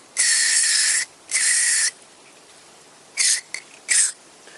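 Four short hissing bursts of MAF sensor cleaner spray onto a Toyota Corolla mass air flow sensor, close up, in two pairs separated by a pause.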